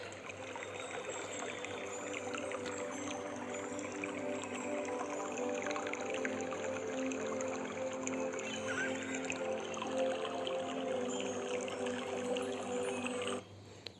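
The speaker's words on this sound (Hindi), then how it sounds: "आपको पानी की आवाज़ आ रही है।" Soft, steady water flows and laps at a seashore beneath sustained, calm meditation music, continuous and gentle throughout before cutting off near the end.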